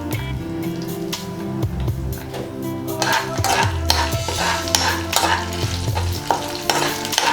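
Green chillies, two dried red chillies and curry leaves frying in oil for puliyogare, a close crackling sizzle that grows busier midway, with scattered metallic clinks and stirring scrapes, no voices.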